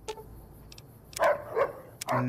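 Rex, a cyborg dog in the video game Fallout New Vegas, gives a few short, happy barks close by, amid game sounds and with some talk around them.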